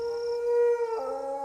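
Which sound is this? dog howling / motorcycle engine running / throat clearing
dog howling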